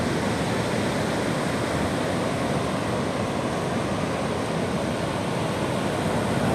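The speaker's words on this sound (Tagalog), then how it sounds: "lakas talaga ng lakas ng alon" Strong sea waves at a beach in Bauang, La Union give a dense, steady roar of surf that stays loud and unbroken the whole time, with no clear breaks between individual waves.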